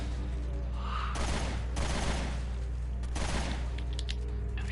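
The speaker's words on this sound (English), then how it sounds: "the whole level right here is just shooting these guys as they pop up" Gunfire in the video game Resident Evil: Revelations 2, Raid Mode in a snowstorm defense level, with rapid bursts of shots in several clusters over a low, steady background drone.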